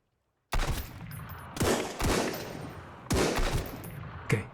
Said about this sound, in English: Okay, 2 shots, he's dead.